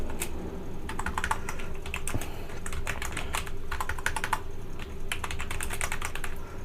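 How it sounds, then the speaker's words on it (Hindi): Rapid keystrokes clatter on a computer keyboard in quick bursts separated by short pauses, close and clear with no talking. "ये मैंने अपनी टाइपिंग कर दी"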